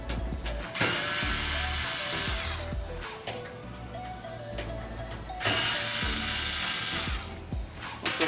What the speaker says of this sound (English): I'm going to remove these 2 screws.